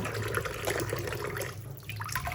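Steady running water rinsing a glass jar used for pickling shrimp in fish sauce, a continuous splashing wash with a brief dip in the middle, close and moderately loud.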